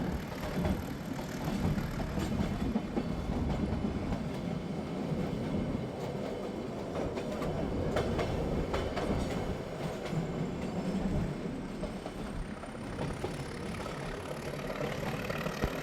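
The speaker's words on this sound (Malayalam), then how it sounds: "ടോയ് ട്രെയിനിൽ കയറിയിട്ടുള്ള ആ ഒരു എക്സ്പീരിയൻസ് ഒന്ന് വേറെ തന്നെ കേട്ടോ." A mountain toy train on the Mettupalayam–Ooty line rumbles steadily along rails, a continuous rattling clatter with faint squeals of wheels, heard from inside as it keeps moving.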